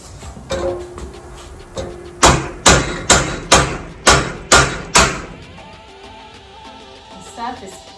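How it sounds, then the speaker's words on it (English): Hand hammer pounding a heavy metal dragon sculpture held in a vise, about seven loud, evenly spaced ringing strikes in a row, followed by quieter handling clatter. "and hand hammer through that too"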